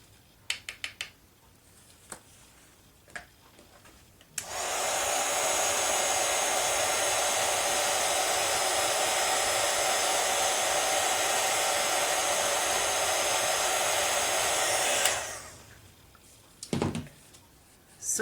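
A heat embossing tool blows to melt embossing powder, a steady loud whooshing roar lasting about ten seconds, with scattered clicks and handling noises before and after.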